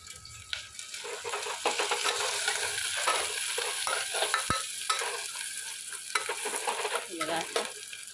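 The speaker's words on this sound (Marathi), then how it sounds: "कांदा टाकलाय भाजायला" Onion sizzles and fries in a pan while a spoon stirs and scrapes at intervals, close and fairly quiet, with no talking.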